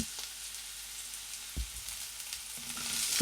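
Diced potato and field bean seeds frying in hot oil, a steady close sizzle with a few soft stirring knocks, the hiss swelling louder toward the end.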